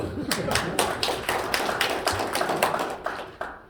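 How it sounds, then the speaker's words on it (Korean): Audience applause during a leadership speech lecture, a dense patter of many hands clapping at moderate volume in an indoor hall, steady throughout. "박수 다시"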